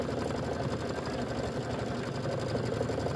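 An embroidery machine stitches out a quilt block for a Christmas wall gallery, giving a steady, dense mechanical whir with a fast, even stitching pulse that holds at a constant level throughout, close and without talk.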